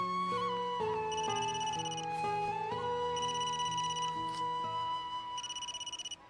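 Mobile phone ringtone for an incoming call from mother plays a bright, repeating electronic melody in clear, steady phrases, close and fairly loud with no voices over it.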